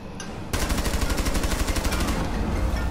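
A rapid burst of automatic gunfire in the tactical shooter Rainbow Six Siege starts abruptly after a brief quieter lead-in, then rattles steadily and loudly for about a second and a half before tapering off.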